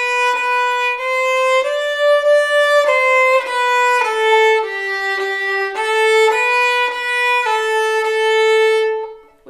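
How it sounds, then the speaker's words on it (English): Solo violin plays the Ode to Joy melody from Beethoven's Ninth Symphony, a steady run of clear bowed notes with rich overtones, close and loud, with no talking. "it sounds like Ode to Joy, right? Beethoven's Ninth Symphony."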